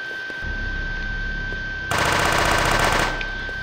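Halo assault rifle firing in the video game Guncraft, a steady rattling stream of rapid automatic gunfire that grows louder and denser in a burst near the middle before easing back.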